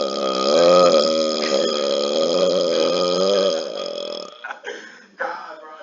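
A long, loud, resonant human burp that drones on for several seconds before trailing off into shorter gurgling bursts, close to the microphone.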